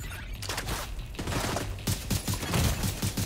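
Gunfire from Tom Clancy's The Division 2 rattles in quick repeated bursts, steady and fairly close, a run of fast shots building toward the end.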